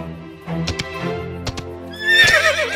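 A rescue horse whinnies once, a rising and falling neigh near the end, after a few hoof clops and thuds in an otherwise quiet outdoor setting.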